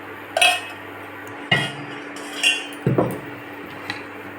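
Jaggery sweet pongal being stirred in a pot for Pongal, with four or five separate scraping, clinking strokes of a spoon against the metal pot, spaced about a second apart, no voices.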